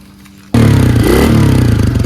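A pit bike (dirt bike) engine bursts into a loud, close revving roar after a brief quiet start, then holds a rough, throbbing drone with slight throttle wavering.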